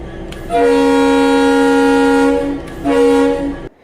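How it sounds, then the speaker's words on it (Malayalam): A train horn blares close and loud in two blasts: a long steady tone, a brief gap, then a shorter one that cuts off sharply. "ഒരു ലോങ് ഹോണും അതിനൊപ്പം ഒരു ഷോർട്ട് ഹോണും ട്രെയിൻ മുഴക്കാറുണ്ട്"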